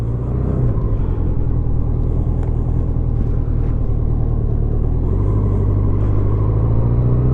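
A 1987 Honda GL1200 Goldwing motorcycle rides along with a steady low engine drone, rising slightly in pitch partway through as it picks up speed, near and loud with no talking.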